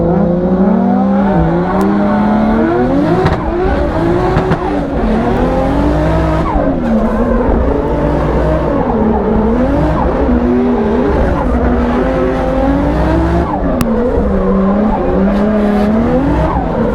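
BMW E36 fitted with a 1.5JZ inline-six, driven hard in a drift competition on a hot day: loud engine revs rising and falling in repeated surges, mixed with sustained tire squeal and skidding, close and continuous across the run.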